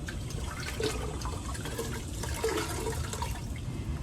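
Tap water running steadily over a onesie being wetted for dyeing with household turmeric, a continuous close splashing rush with faint drips throughout.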